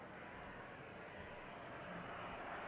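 A Logan Air airliner touches down at Manchester Airport: a faint, distant, steady engine roar with broadband rumble and no voices.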